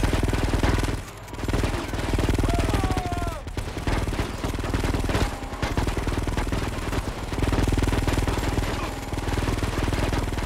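Gunfire from the PS2 game Grand Theft Auto Vice City Stories, heard as a dense, loud, continuous barrage of rapid shots over engine rumble that dips briefly a few times.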